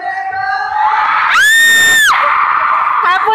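Arena crowd at an all-star basketball game at Araneta screaming and cheering: a loud sustained roar that swells into a high collective shriek for under a second, then settles back into crowd noise.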